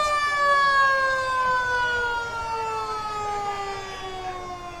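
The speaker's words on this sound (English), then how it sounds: "All the kids love to see a fire engine." A fire engine siren wails at a Christmas parade in Sanford, its long rising and falling tones loud and steady throughout, with a faint bed of crowd and road noise beneath.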